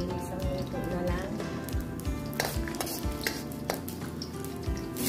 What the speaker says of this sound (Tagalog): Ilalagay na natin yung bawang.